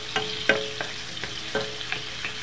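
Tomatoes cook slowly in a pan over a low flame, a soft steady sizzle broken by several light scrapes and stirs of a utensil, close and unaccompanied by speech.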